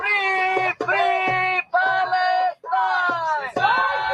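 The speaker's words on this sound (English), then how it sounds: "Thousands of protesters descended on Washington, chanting" A crowd of pro-Palestinian protesters chants in Washington, loud rhythmic phrases repeated in five clear bursts separated by short pauses.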